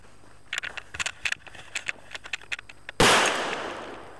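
An RGS-4 pyrotechnic firecracker first crackles and pops in a run of sharp little bursts, then goes off in one loud, close blast whose roar slowly fades away.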